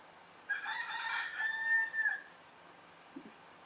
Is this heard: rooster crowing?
yes